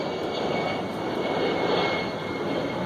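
A-10 military jets roar steadily overhead, a continuous broad rushing drone at moderate distance with no voices.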